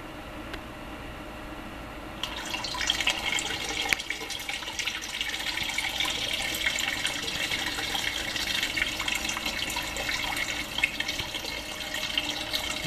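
Water flows steadily into a Blue Bowl gold concentrator for processing gold concentrates, starting as a faint trickle and then rising into a continuous, fairly close rushing hiss after a couple of seconds.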